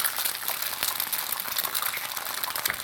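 An egg sizzles and fries in a cast iron skillet, a steady close hiss of spattering oil that continues evenly throughout with no voices.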